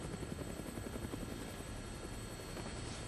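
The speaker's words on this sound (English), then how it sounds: "Looks like taking a helicopter was the way to go." A helicopter in the video game Dead Rising gives a steady, loud rotor thump and engine drone for a few seconds, with no talking over it.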